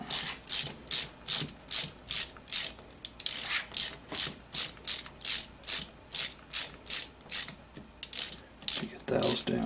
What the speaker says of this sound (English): you can use your 1/4 inch